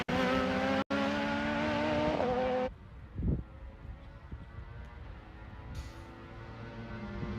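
A race car at the FARA Miami Grand Prix roars loudly past at speed, its engine note sustained and harmonic before cutting away, leaving fainter trackside engine noise and a distant tire squeal.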